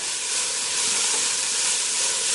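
Fresh pepper stirred into a hot pan of Chinese fried rice gives off a loud, steady, unbroken sizzling hiss with no voices over it.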